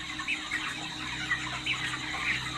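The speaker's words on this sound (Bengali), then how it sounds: "তো আমি হেঁটে বেরিয়ে দেখাচ্ছি কীভাবে মাচাই ফার্মে পাখি থাকে আর কীভাবে খাওয়া দাওয়া করছি এরা" Chickens on a raised slatted-floor poultry farm make soft, scattered clucks and short calls over a steady background hum of the shed, with no voices.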